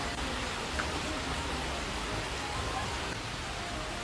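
Heavy rain pours down in an even, unbroken hiss that stays fairly faint and constant throughout.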